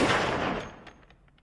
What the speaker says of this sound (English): Two hitmen, two guns, empty their clips into one person there.